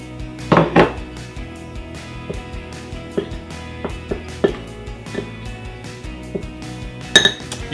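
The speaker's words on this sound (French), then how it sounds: "Je mélange donc le sel avec la baking powder dans la farine." A whisk clinking against the side of a bowl while salt and baking powder are stirred into flour for a blueberry cobbler, a crisp cluster of strikes at the start, softer irregular taps after, and a sharp clink near the end.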